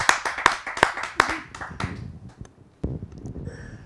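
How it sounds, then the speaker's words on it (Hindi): Audience clapping at a Hindi kavi sammelan poetry event as a poet is invited up, a burst of loud hand claps thinning into scattered claps, with little speech. "आप सबकी जोरदार तालियों से उसे आमंत्रित करते हैं"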